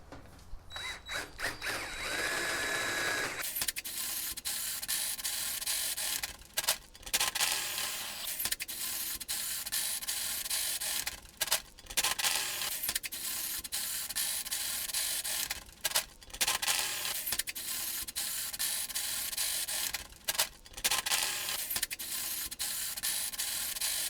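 A hole saw grinds continuously through a metal floor plate, cutting 1.25 inch holes with a loud, harsh, close drilling whine that breaks off in brief pauses between holes.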